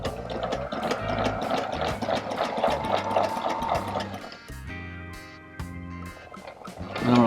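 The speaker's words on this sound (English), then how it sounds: "just going to go ahead and sew right back on this one" A Sailrite sewing machine stitches a hatch cover, running in fast rhythmic bursts at close range, then pausing and slowing to a few separate stitches.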